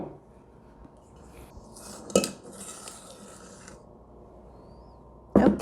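Blueberry muffin batter being spooned into metal muffin tins: a faint, quiet kitchen background broken by a couple of sharp metallic clinks, one in the middle and another near the end.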